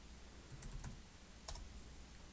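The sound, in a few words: typing on a computer keyboard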